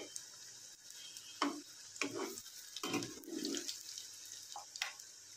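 Prawn fritters dropped one by one into hot oil, giving soft bursts of sizzle and bubbling that swell and fade over a quiet background, fairly faint and close.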